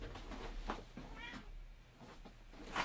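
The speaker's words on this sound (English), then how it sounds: "It's time to go meow, Salud." A sleeping pet cat meows several times when touched, soft scattered cries at moderate distance with a quiet hum underneath.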